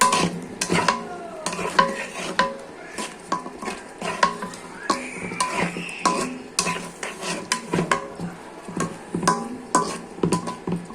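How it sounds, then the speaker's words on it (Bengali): Fish is stirred and fried in a pan, with steady sizzling under repeated scraping and clinking of a metal utensil against the pan, close and fairly loud, no speech. "মাছ দিয়ে দিতে হবে। মাছ দিয়ে কষতে হবে।"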